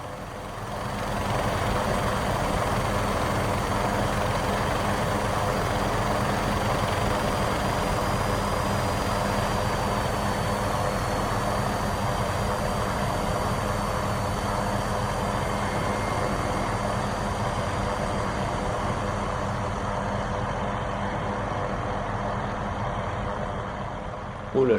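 Helicopter engine in an Xbox flight game, a steady close drone with a constant high whine running unbroken for the whole stretch, loud and alone without talk.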